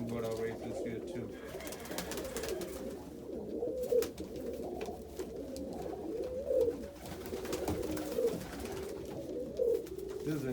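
A pair of dun Indian fantail pigeons cooing in a loft, low soft repeated coos rising at intervals over a continuous murmur of other birds, with someone talking throughout.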